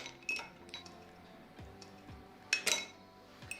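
Heat-proof mixing bowls being handled and set down in a kitchen while making white chocolate coffee shots: scattered light clinks and clatters of bowls and utensils, with two brighter ringing knocks near the end, fairly close and quiet.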